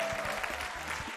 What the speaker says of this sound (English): Dukwe, put your hands together for Kally.